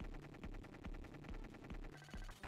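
Cannons fire during a boss fight in the video game Contra Hard Corps, a rapid, steady barrage of loud thudding blasts over dense game noise and music, with no talking.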